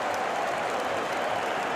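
Sunderland football crowd roaring at the Stadium of Light, a steady dense wash of massed voices and applause-like noise holding level and loud throughout, with no individual voices standing out.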